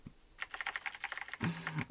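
Rapid typing on a Razer keyboard with clicky neon switches, a close, crisp run of keystrokes that stays fairly even for most of two seconds.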